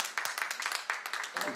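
Hotel staff happy to be back at work after months away give a short burst of clapping, uneven hand claps in quick bursts, close and lively, with talking mixed in.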